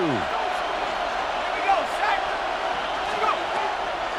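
A stadium crowd in an American football video game keeps up a steady, loud roar throughout, with a commentator's voice talking over it.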